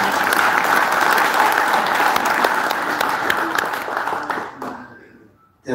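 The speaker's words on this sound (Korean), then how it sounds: "여러분 큰 박수 부탁드립니다" Loud, sustained applause from the audience at the inauguration ceremony of the 19th president of the Korea Senior Citizens Association, broad continuous clapping that thins out and fades near the end before another sound cuts in.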